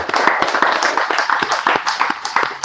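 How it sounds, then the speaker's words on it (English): An audience claps at a Sunday Love Feast gathering, a steady, fairly loud burst of many hands lasting a few seconds with no speech over it. "Please clap for her."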